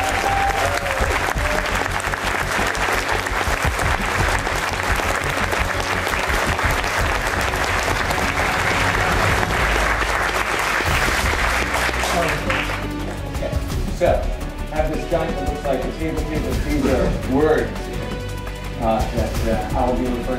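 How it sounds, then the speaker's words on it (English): Audience applause at a Smithsonian American Art of Video Games conversation event, a dense, loud burst of clapping that fills the first half, then thins into scattered claps and crowd murmur. "So I'd like to give you a round of applause here."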